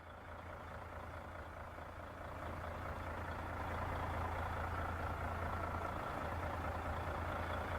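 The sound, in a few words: Mercedes-Benz Actros truck engine revving in video game SnowRunner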